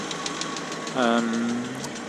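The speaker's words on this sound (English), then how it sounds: "So it's running now, no choke on," A warmed-up Land Rover Series 3 engine idles with no choke, giving a steady, close, low mechanical running sound and a brief tonal rise near the middle of the clip.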